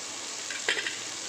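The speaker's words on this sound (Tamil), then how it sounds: "வதங்கினதுக்கப்புறம் இஞ்சி பூண்டு நல்லா வதங்கிடுச்சு." Ginger and garlic sauté in a pan under a soft, steady hiss, with a quick stir and a light clink of a utensil against the pan midway.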